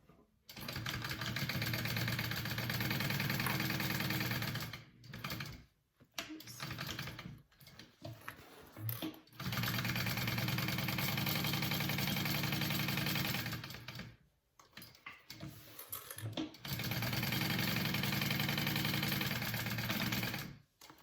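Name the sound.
sewing machine stitching a Duffy Bag seam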